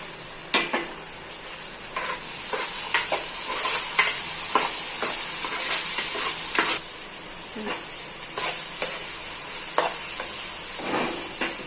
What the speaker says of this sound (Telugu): ఇప్పుడు దీంట్లో టమాటాలు వేసుకుంటున్నాను